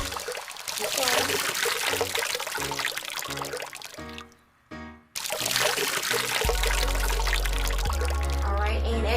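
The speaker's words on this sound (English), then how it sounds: "London, go ahead and pour a little bit more water in there." Water poured slowly into a small toy aquarium from a Subsea Volcano kit, a loud continuous pouring and trickling that breaks off briefly and then resumes.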